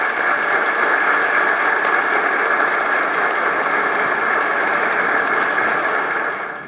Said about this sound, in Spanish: para quien pido aquí un fuerte aplauso